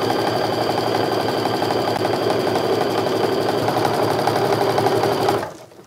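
A sewing machine chain pieces quilt strips with a loud, close, continuous rapid mechanical chatter and hum that runs steadily for over five seconds before winding down and stopping.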